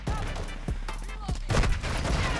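Gunfire in Call of Duty Modern Warfare 2 multiplayer: several sharp shots crack in close succession over a steady background hum, with a louder burst of fire near the end.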